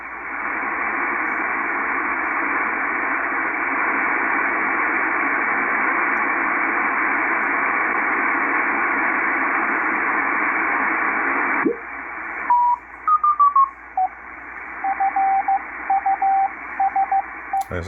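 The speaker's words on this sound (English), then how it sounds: "This is probably W1AW Morse code lessons." On a Kenwood R-5000 shortwave receiver with a loop antenna, tuned on the 80-meter band in lower sideband, a long stretch of steady static hiss cuts off. Short, clipped keyed tones of W1AW Morse code lessons then follow in irregular groups.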